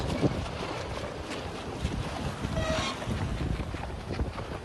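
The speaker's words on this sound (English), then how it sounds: "class 3 boat coming past us" Steady wind and water rush around a moving sailing boat in open sea near Bishop Rock during the Fastnet race, with another racing boat passing close by; continuous broadband noise, no voices.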